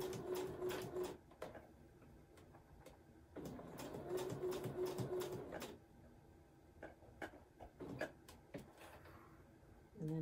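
A sewing machine stitches around a tire shape on a small camper-trailer piece, running in several bursts with pauses and clunks between them as the fabric is turned, heard close up.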